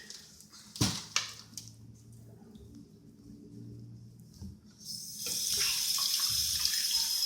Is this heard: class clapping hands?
no